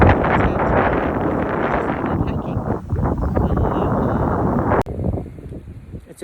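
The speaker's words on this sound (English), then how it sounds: "It's a beautiful day in Kapalua with the gentle trade winds blowing." Gusty trade winds blow across the microphone in Kapalua. A loud, continuous rumbling buffet carries on with uneven surges, then eases after a sharp knock near the end.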